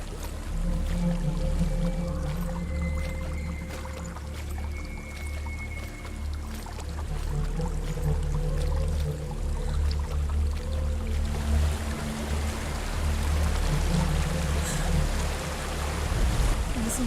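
Waterfall in the video game Hellblade: Senua's Sacrifice, a steady broad rushing wash of water that holds constant throughout, with faint tonal game ambience layered underneath.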